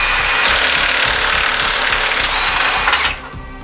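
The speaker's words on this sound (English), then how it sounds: "We add some contamination and switch back to the impact tool." A pneumatic impact tool drives an oil-contaminated bolt, giving a loud, steady rattling whir for about three seconds before it cuts off, heard close and alone.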